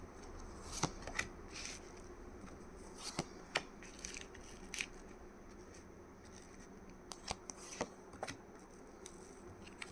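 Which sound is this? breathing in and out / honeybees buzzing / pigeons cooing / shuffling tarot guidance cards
shuffling tarot guidance cards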